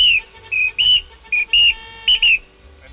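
In a Louis de Funès film scene, a whistle stands in for speech: about seven short, bright whistled bursts in a halting, conversational rhythm with shifting pitch, heard alone and clearly up close.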